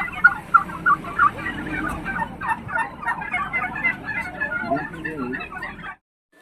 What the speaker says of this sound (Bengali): এগুলো মুরগির মতন দেখাচ্ছে, কিন্তু মুরগি ঠিক না, কি পাখি আমি জানি না